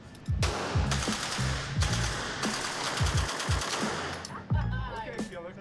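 Rapid firearm shots at a shooting range target, sharp close cracks fired in quick bursts of several rounds with short pauses between volleys, loud and echoing.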